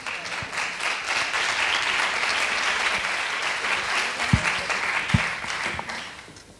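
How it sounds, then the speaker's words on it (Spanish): Audience applause fills the hall as a dancer and speaker at a high-ability education symposium is introduced, steady, dense clapping with a few sharper claps toward the end before it fades out. "Un fuerte aplauso para nuestro bailarín, Christoph Perlet."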